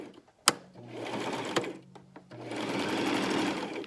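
A sewing machine stitching a half-inch hem on a Christmas stocking: a sharp click, short bursts of close mechanical whirring with pauses, then a longer continuous run of stitching.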